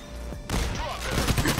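Shotgun fire and chaotic combat in the heist video game PAYDAY: Diamond Heist, with blasts rising out of a brief lull into dense, loud gunfire.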